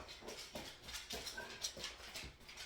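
A dog whimpers softly in short repeated whines and snuffles, faint and close, with a few small rustles between them.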